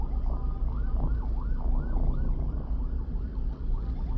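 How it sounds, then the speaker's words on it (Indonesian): An ambulance siren wails in a rising and falling pattern as it passes through traffic, loud and near over the rumble of engines. "Ada ambulans."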